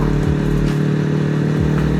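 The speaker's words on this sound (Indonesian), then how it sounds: "Entah kenapa saya lagi suka banget nih suara pakai knalpot PDK ini." A Kawasaki Z250 motorcycle with a PDK racing exhaust runs close and loud with a steady, throaty engine drone, with brief dips in pitch as the revs shift slightly.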